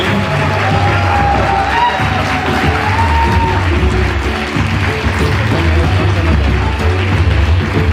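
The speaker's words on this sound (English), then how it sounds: "Come on, let's keep the applause going." A large crowd at a live public stage event in Pune applauds and cheers steadily, a dense, continuous wash of clapping and whoops held at an even, loud level throughout.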